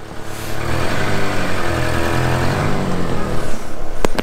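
A car engine hums and drones steadily as the car is driven, loud and close throughout, with a couple of sharp knocks at the end.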